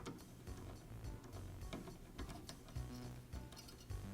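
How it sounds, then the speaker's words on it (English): A blade clamp being unscrewed on a DeWALT scroll saw gives faint, close clicking and ratcheting of a threaded metal part, turning in a quick irregular rhythm with no voices. "Now I can just unscrew the blade clamp."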